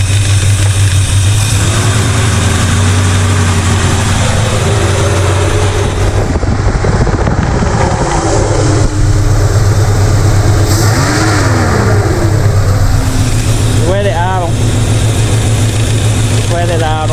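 A worn-out Chevrolet El Camino engine idles loud and close, rough and low throughout, with people talking over it and a fan whirring in the background.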